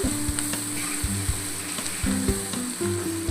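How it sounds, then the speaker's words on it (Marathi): Onions frying in a pan as turmeric powder is stirred in for a boiled potato curry: continuous close sizzling with repeated light scraping and tapping of a spoon, no speech. "कांदा शिजलाय। आता आपण हळदी पावडर, मिक्स करायचं चांगलं व्यवस्थित।"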